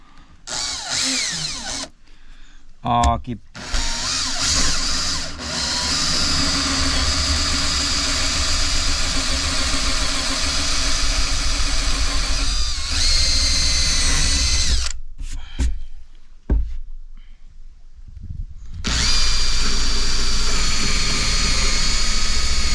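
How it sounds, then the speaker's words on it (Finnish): A loud power drill drills holes during a cabin kitchen renovation, whirring steadily for long stretches, briefly stopping and restarting several times, close by with no talking. "Ruvetaan poraamaan reikiä."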